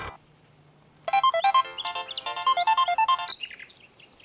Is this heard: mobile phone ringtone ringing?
yes